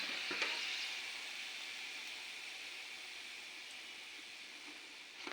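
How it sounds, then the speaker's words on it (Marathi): Papad frying slowly in oil over a low flame, giving a steady, soft, even sizzle that holds at a constant level throughout with no voices. "असे मंद आचेवर तळून घ्यायचे"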